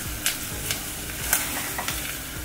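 Onion and flour frying in a pan for a summer pea soup while being stirred, a steady sizzle broken by several sharp scraping strokes of the spoon at a loose, irregular rhythm, close and moderately loud.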